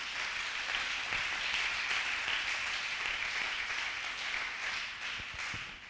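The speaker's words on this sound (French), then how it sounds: "Acclamons le Seigneur" A church congregation applauds in a continuous dense roar of clapping, loud and sustained throughout.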